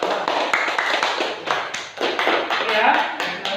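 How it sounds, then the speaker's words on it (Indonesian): Short burst of classroom clapping from children, uneven and bunched into a few loud pulses, with voices mixed in. "Tepuk tangan buat Anda."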